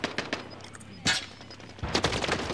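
Rapid bursts of gunfire in Call of Duty Black Ops Cold War Warzone, several sharp volleys crackling close by, with a dense cluster near the end.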